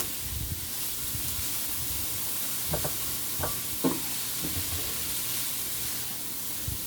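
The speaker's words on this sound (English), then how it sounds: "And all of that is just going to be sauteed." Vegetables with bean sprouts and celery sautéing for chop suey, a continuous soft sizzling hiss with a few light scrapes of stirring, steady and moderately close.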